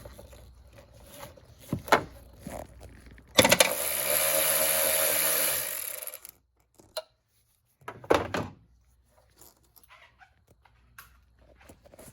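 A ratchet clicks as it loosens the bolt holding a BMW air box during alternator replacement, giving a steady rasping burst of a few seconds between brief clinks and thuds in a quiet workspace.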